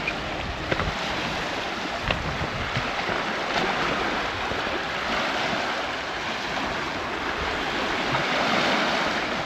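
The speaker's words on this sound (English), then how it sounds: "ocean wave ASMR." Ocean waves wash over a rocky shore at Pipers Lagoon near Nanaimo, British Columbia, a steady, full surf hiss with wind buffeting the microphone throughout.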